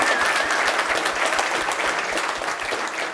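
A room of men applauds together in a steady, dense wash of clapping, moderately loud and continuous throughout.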